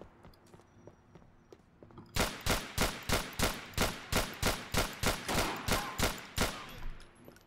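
Gunfire in the LCPDFR police mod for a video game: a rapid volley of around fifteen evenly spaced sharp shots that starts abruptly after quiet ambience and stays fairly distant and moderate in level.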